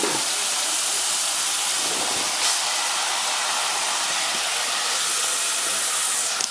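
Colocasia (kesu) pieces hiss and sizzle in hot tempering oil, a steady, loud, broadband frying crackle that holds evenly throughout without speech.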